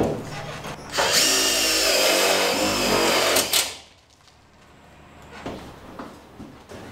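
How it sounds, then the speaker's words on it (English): Power drill driving tek screws through tin roofing and head flashing into J-track while building a shed, one loud, close whirring burst of about two and a half seconds, followed by quieter handling noises. "setting the height for my screws so I can screw through my tin, through my head flashing it, and into the J-track behind"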